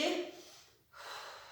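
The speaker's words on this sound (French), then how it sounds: "J'inspire, je souffle. J'inspire, je souffle." Deep breathing during a circuit-training exercise: a loud audible breath, a short pause, then a second softer breath, close to the microphone with no other sounds.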